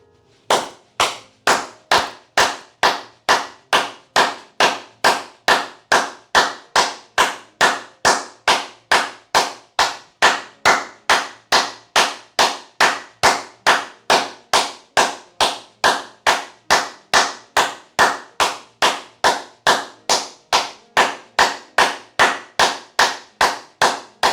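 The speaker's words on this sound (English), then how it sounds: "start clapping your hand this way." Hand clapping performed as a yoga exercise, a single person's loud, crisp claps repeating at a fast, even rhythm of roughly two per second, continuing steadily alone without talk.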